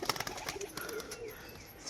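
A pigeon in acrobatic display flight, giving a quick burst of wing flaps and claps, close and fairly faint, with soft outdoor background.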